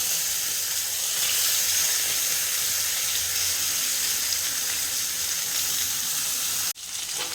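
Masala paste frying in a pan for a drumstick curry, a loud, steady broadband sizzle that runs continuously and then cuts out abruptly near the end.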